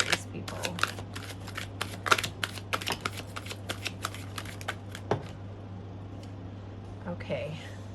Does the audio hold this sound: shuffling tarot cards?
yes